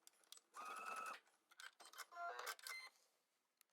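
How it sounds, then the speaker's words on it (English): A domestic sewing machine understitches through several fabric layers of DIY climbing trousers, running in short motorized bursts separated by brief pauses, close and fairly quiet with no talk. "we're going to go back to our sewing machine and we're going to understitch through all of the layers"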